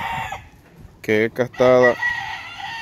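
A rooster lets out one loud, close crow in two harmonic-rich bursts, with someone speaking quietly around it.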